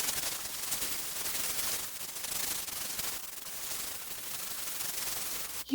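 Fluid art is sanded with 80 grit sandpaper, producing a continuous hissing scrape in steady back-and-forth strokes, close and fairly loud.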